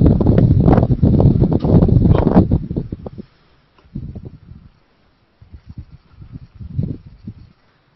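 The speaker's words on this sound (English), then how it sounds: "Sounds like you got some wind." Wind gusting outdoors around a telescope setup, heavy buffeting microphone rumble for the first few seconds, then quieter scattered gusts separated by near-silent gaps.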